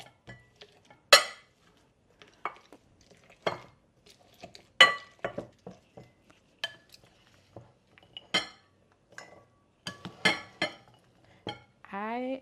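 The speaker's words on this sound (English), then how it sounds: "So I'm gonna put a layer in the bottom of a bowl and just mash them up." A layer of blueberries is mashed in the bottom of a bowl for jam. Intermittent clinks and scrapes of a utensil against the bowl are separated by quiet gaps, close and moderately loud.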